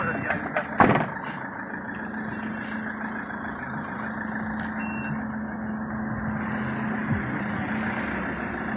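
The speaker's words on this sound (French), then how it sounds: "Ah, t'as une bagnole qui monte." A car passes on a street, its engine rumbling steadily under continuous traffic noise, with a couple of short knocks near the start and people talking in the background.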